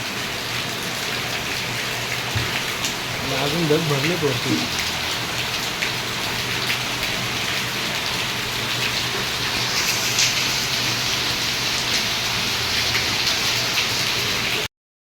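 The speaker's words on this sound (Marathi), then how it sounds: "तो पाऊस बघा चाळीमध्ये पाऊस बघा असं पडतो" Heavy monsoon rain pours steadily onto a chawl building at the top of a residential area, a dense continuous hiss throughout, with a voice speaking briefly near the start.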